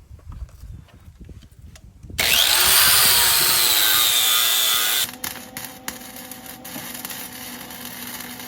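An angle grinder works over the metal of a Farris ZTR IS 3000 zero-turn mower, smoothing a spot before welding. After a quiet start it screams loud and steady for about three seconds, then gives way to a lower mechanical hum.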